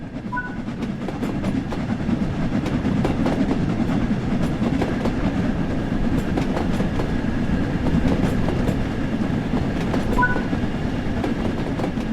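A steam locomotive in the Spirit of Steam game gathers speed, a steady rhythmic clickety-clack of wheels over rail joints under a constant rumble, with a brief faint whistle-like tone near the start and end.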